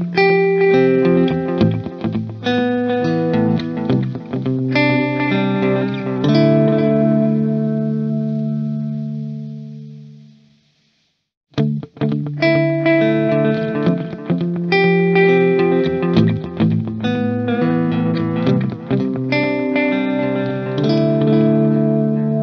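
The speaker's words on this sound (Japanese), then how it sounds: "これテープに突っ込むレベルを上げることでより歪みっぽいダーティーなディレイ音が得られます" An instrument runs through a T-Rex Replicator D'Luxe real-tape echo pedal with saturation turned up, giving dirty, smeared delay repeats. Sustained notes ring and fade to a brief silence, then a new phrase starts and its echoes repeat loudly.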